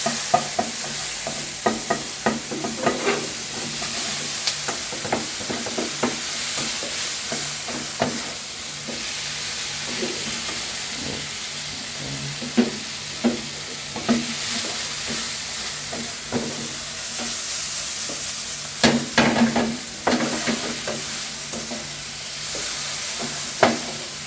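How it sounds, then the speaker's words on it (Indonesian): A cheese quesadilla filling is stirred in a sizzling pan, a constant frying hiss broken by repeated clicks and scrapes of the utensil against the pan. "sekarang kita akan mengaduknya"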